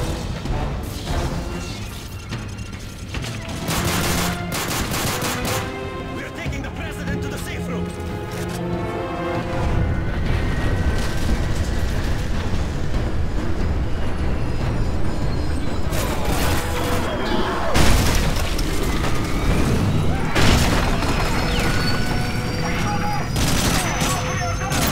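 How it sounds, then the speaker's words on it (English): Sustained gunfire and explosions from Call of Duty Modern Warfare 3, dense bursts of automatic fire and heavy crashes rolling on loudly throughout, with urgent shouted voices mixed into the battle. "Gunfire!"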